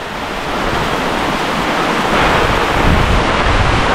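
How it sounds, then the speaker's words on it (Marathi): Heavy wind and rain outdoors in Konkan monsoon weather, with rushing water from a large stream flowing through a lane, forming a dense, steady roar that swells slightly louder midway, with no voices. "वारा आणि पाऊस पण आहे"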